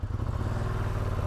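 A Ducati Streetfighter V2 motorcycle on its stock exhaust with catalytic converter and OEM muffler holds a brief, muffled, throaty rumble, steady and close, with no voices.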